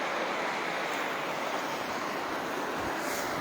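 The sacred river at Gangotri rushes past its banks in a dense, steady roar of flowing water, loud and close with no break.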